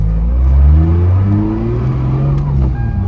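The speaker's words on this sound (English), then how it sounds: "it's just driving like a stock is300 right now" A turbocharged Lexus IS300 engine hums low and steady from inside the cabin, its pitch gently rising and falling through low revs without hard acceleration.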